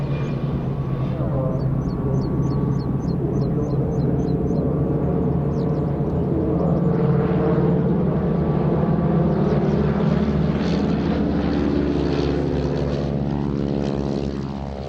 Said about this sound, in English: Both fixed-wing and rotary line up for an unorthodox flypast to conclude their display.